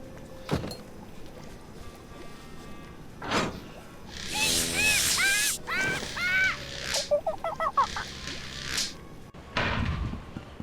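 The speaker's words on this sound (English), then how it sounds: "Slovenly parrots!" Cartoonish parrots in the Tales of Monkey Island video game let out a string of shrill, warbling squawks and honks, several bursts close together in the middle, over a quiet game background with scattered thumps.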